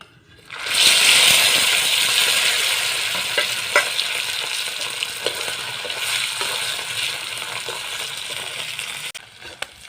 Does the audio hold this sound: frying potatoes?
yes